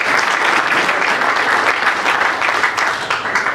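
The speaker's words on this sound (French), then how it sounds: "M. Moukouli Kassongo Ernest, par acclamation des votants" Loud, sustained applause from voters at a union election in a hall in Kintambo, a dense continuous roar of many hands clapping close by, steady throughout with slight swells.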